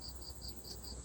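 Crickets chirp at night in a rural village, a regular pulsing trill repeating about every fifth of a second over a faint low background hum.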